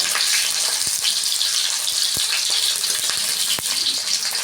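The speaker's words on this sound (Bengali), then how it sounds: "ওই তেলেই আমি পেঁয়াজগুলো ভেজে নেব" Onions frying in hot oil in a pan for a chicken dish, giving a loud, steady hiss and crackle with a few sharp pops, close up and without talk.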